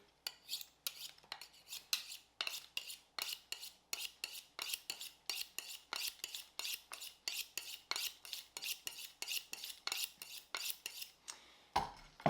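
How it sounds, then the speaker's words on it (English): A boning knife trims fat from a Manhattan-cut steak, giving a steady run of short scraping, rasping strokes in quick rhythm, close and fairly quiet, with a sharper knock near the end and no talk. "Now I'm going to do the same thing with my boning knife. I'll just trim that off."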